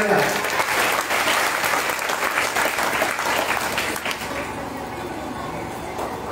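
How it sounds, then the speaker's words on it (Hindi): Devotees at a Srimad Bhagavatam recitation in Luharli Gaon, Uttar Pradesh, clap loudly together, a dense, rhythmic round of applause that thins somewhat after a few seconds before swelling again. "जोर से ताली बजा।"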